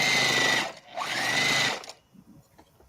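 A sewing machine runs steadily in two bursts of stitching straight down the middle of a quilt, loud and close, with a brief pause between runs before it stops and quiet handling noises follow.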